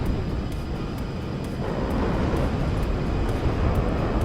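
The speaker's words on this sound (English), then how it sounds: "Thunderbolt coming in here, chugging along, super slow. It looks like a prop plane" A dense, rumbling engine roar of a Thunderbolt aircraft passing overhead in the WARNO war game, steady and loud with a slight swell midway, alone without talk.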